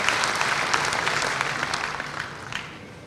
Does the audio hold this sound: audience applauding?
yes